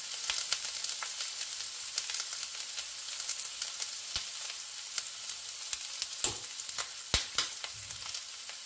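Food sautéing in a pan gives a steady, quiet sizzle with frequent crackles and pops throughout, and no voices.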